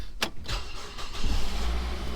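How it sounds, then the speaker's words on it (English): A 2008 Mazda 3 engine cranks briefly and then catches, settling into a low, steady idle close by. "All right, fire up the car"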